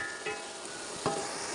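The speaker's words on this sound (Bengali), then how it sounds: "আর এখন আমি আলুগুলো ভেজে নিচ্ছি, বিরিয়ানির মধ্যে আলু দিব" Potatoes fry in oil in a pan for biryani, giving a steady, close broadband sizzle throughout with a couple of brief stirring scrapes, and no one talking.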